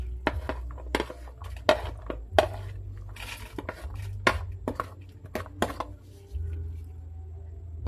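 A knife chops garlic on a board for Filipino pork humba, a loose series of sharp, close taps and knocks spread unevenly across the clip.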